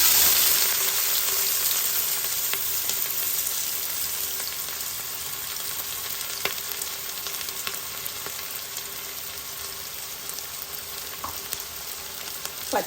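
Shahi jeera and chopped onions frying in hot oil for a sweet corn biryani give a steady, dense sizzle that fades slightly over time, with a few faint clinks and stirs and no talking.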